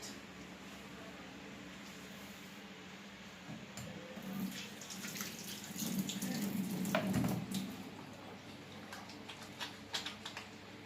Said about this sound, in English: so I'm just washing my hands